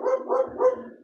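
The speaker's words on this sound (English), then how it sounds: "That's my dog, Sophie." A dog barks three times in quick succession at a moderate distance, each bark short and clear with nobody talking over it, during an online public housing agency meeting.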